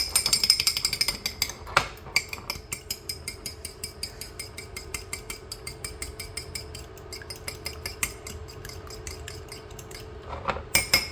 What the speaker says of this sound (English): So what I'm going to do is I'm going to beat the egg.